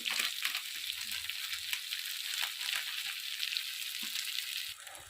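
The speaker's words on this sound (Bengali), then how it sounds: "দেখুন ভালো করে আমি মশলাটাকে ভেজে নেব" Spice paste with chili powder frying in a pan for a jackfruit curry, a soft, steady sizzle with a few light stirring scrapes, fairly quiet and close.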